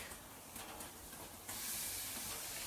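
Chicken hits a grill preheated to about medium heat, and a sudden broad hiss of sizzling bursts in halfway through. It then holds steady and fairly quiet after a soft, low background.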